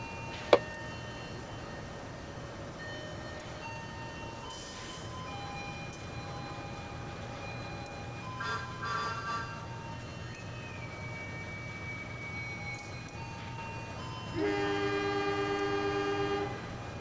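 Passenger train departing a station in the Trainz railway simulator game, a steady low engine rumble with intermittent horn tones, and a sustained horn blast near the end over the running hum.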